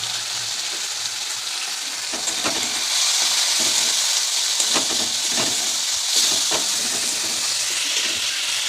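Katla fish pieces frying in hot oil in a home kitchen, a steady broad sizzle and hiss with scattered pops and crackles throughout, close and fairly loud, with no talking.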